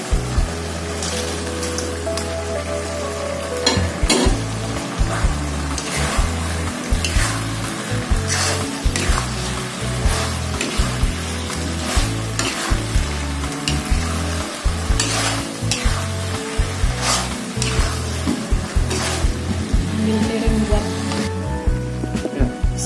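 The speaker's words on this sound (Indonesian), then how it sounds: "kita masukkan terong yang sudah digoreng tadi" Fried eggplant is stir-fried with seasoning in a pan for a Chinese-style dish, giving a loud, continuous sizzle with rhythmic scraping and stirring strokes throughout.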